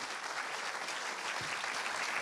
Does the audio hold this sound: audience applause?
yes